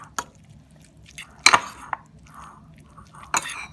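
A fork clinks and scrapes against a plate while ramen noodles are knocked off it, giving a few sharp metallic taps separated by quieter gaps, with no talking.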